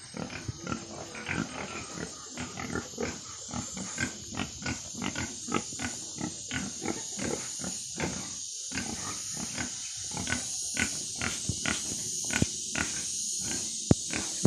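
Pigs in a pen on a farm grunt and squeal in a steady run of short, repeated calls, close and clear, with occasional clatter in between.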